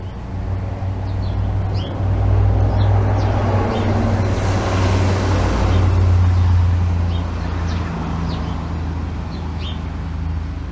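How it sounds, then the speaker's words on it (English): Steady road traffic rumbles past nearby, a continuous low roar of vehicles that swells midway, with faint chirps scattered above. "probably too hard to hear with all the traffic going past"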